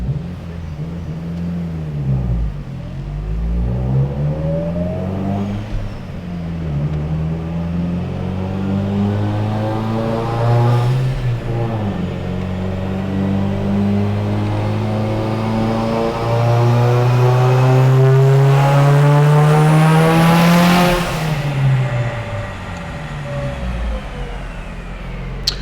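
A Mitsubishi Evo 8 with an FP HTA86 turbo, Kelford 276/274 cams and stock bottom end on 93 pump gas revs hard and holds against the limiter, its harmonic note rising and falling loud and close with rough cut-out stutters.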